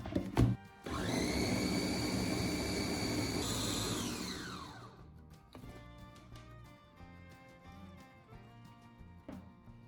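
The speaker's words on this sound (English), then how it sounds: "Put the chopped mango into the blender. Add 100 grams of milk and blend until smooth." A blender blending chopped mango and milk whirs loudly for a few seconds, then winds down and stops, leaving quieter clinks and room noise.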